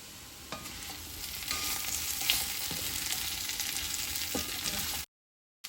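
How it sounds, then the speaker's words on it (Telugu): Potato curry, a crispy temple-style potato fry dusted with chilli powder, sizzles steadily in a pan with scraping stirs every so often. It cuts to sudden silence near the end. "ఇది కొంచెం ఫ్రై అయిన తర్వాత చిల్లీ పౌడర్ వేసి దింపేసుకోవటం"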